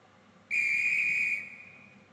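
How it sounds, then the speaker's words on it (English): A train guard's whistle gives one loud, sharp, steady shrill blast of about a second before closing the doors, then cuts off and leaves a faint ringing tail. "I'm gonna blow my whistle now"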